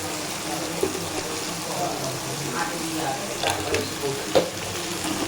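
A spice paste with turmeric and salt fries hard in a pan, its loud continuous sizzle broken by scraping stirs and a couple of sharper knocks of the spoon.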